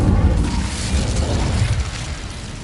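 Incendio fire spell cast in a Harry Potter video game, a deep whooshing boom that swells at once and then rumbles and fades over a couple of seconds.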